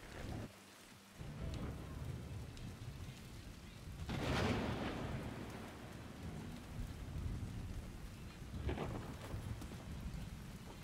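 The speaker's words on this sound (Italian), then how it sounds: "è quel rumore qua di sottofondo della pioggia" Steady rain hissing in the background, fairly quiet, with a couple of low rumbling swells rising through it.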